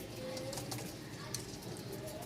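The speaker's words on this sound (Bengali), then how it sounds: "এই তিন পিচ কবুতর একদম সেম টু সেম" Soft, low cooing from a group of pigeons, including three matching birds and a black one kept for sale, murmuring steadily at close range under a noisy, busy background.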